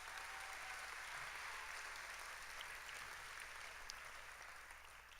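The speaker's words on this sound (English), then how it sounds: "Please, let's give Andrea a round of applause." Steady applause from an audience at a children's award ceremony, a dense even wash of clapping that holds for several seconds and gradually thins toward the end.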